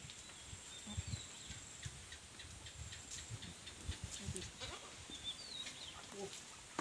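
Goats on a goat farm in Assam, kept beside a lemon orchard, with faint bleats scattered through outdoor farm ambience alongside birdsong and other livestock noise.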